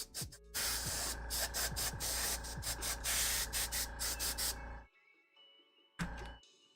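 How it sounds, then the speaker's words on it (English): An airbrush sprays paint onto a miniature in close, hissing bursts that pulse on and off for several seconds, stop, then resume with one short spurt. "So I'm still better off doing it airbrushing both sections."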